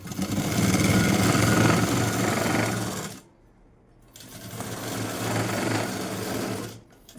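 A sewing machine stitches blouse cloth in two fast, steady runs, close and clear, separated by a short pause, with another brief stop at the end.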